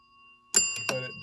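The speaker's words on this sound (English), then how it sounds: "It rings the bell" The score mechanism bell of a 1963 Bally Hootenanny pinball machine rings in two quick, close metallic strikes after a faint hum, with no talking over it.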